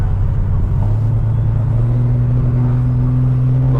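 A 900 hp turbocharged RB30 engine in a VL car holds a loud, steady, deep drone with a low rumble, and its pitch climbs slightly partway through as the revs build.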